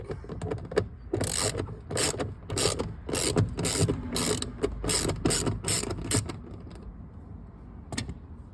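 A hand ratchet loosening a bolt on a Toyota Camry passenger side mirror, giving repeated quick clicking strokes in irregular bursts, close and clear, with no talking.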